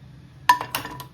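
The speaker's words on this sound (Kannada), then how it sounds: "ಒಂದು ಪುಟಾಣಿ ಪ್ಯಾನ್ ಇಟ್ಟು" A small pan set down on a stove in a home kitchen gives two close, crisp metallic clinks about a quarter second apart over a quiet low background.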